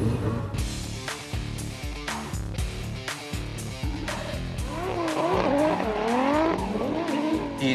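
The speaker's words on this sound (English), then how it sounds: "we're actually coming in, sliding the car sideways" A drift car slides sideways at a drift event, its engine revving hard in loud bursts before a long, wavering tire squeal rises up close and holds for several seconds.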